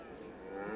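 Cattle lowing in a farming simulation game, a single drawn-out moo rising slightly in loudness over the moment, moderately quiet with no talking.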